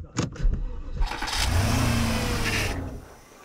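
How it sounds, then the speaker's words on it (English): A BMW and a Porsche running without oil, their engines cranking, catching and revving loudly together in a close, sustained roar that fades at the end. "gentlemen, I want you to start your engines."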